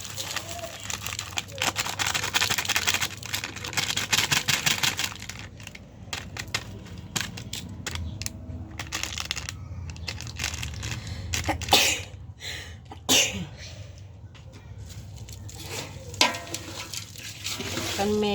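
Biryani ingredients with cooking oil and a spice blend are mixed by hand, giving wet squelching and crinkly rubbing sounds in irregular bursts, close and fairly loud at first, then sparser clicks and knocks.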